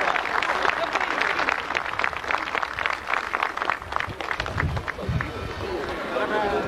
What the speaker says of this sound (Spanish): ¡Palmas, palmas, palmas generosas!